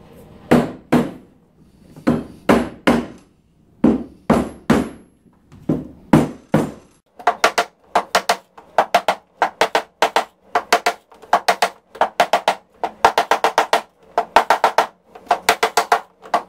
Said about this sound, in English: then we need to hammer these down evenly.